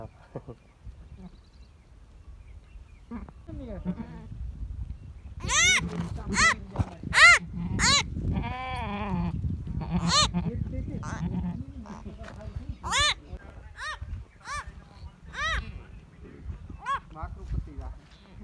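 Goats bleat repeatedly, loud and close, in a string of wavering cries over several seconds, with people talking in the background; a goat is giving birth in the Gir forest, Gujarat, India.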